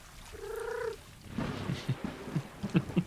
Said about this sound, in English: I've never heard him purr before